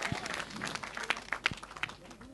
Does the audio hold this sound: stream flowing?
no